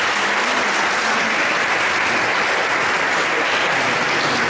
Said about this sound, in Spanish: Denles aplausos